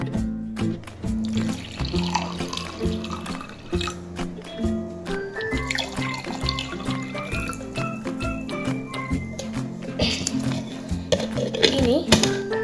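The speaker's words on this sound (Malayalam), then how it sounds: "ഞാൻ ഈ 2 ഗ്ലാസ്സിലേക്കും കുറച്ച് വെള്ളം ഒഴിക്കാൻ പോകും." Water is poured into two glasses, a burbling, splashing fill that runs on for several seconds amid background music and clatter.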